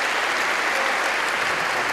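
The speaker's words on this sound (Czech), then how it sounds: "tomu taky zatleskejte samozřejmě" Audience at a benefit concert applauding, a loud, even roar of many hands clapping throughout, alone without voices.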